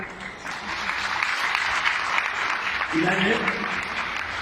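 Audience clapping through a convention Q&A session, a steady wash of applause from a crowded hall with a short spoken question rising above it near the end.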